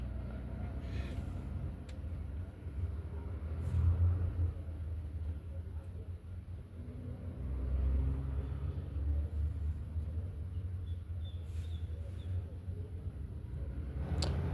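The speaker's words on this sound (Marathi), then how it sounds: "गाडी चाल." A car drives along with a low, steady engine and road rumble that swells slightly at times, heard from inside at moderate level, with no clear talk.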